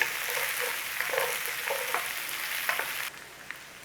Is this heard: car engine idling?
no